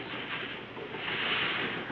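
A soft, continuous rushing hiss that swells and recedes gently, ocean waves imitated with a sack of peas on a window screen, fairly quiet with no voices.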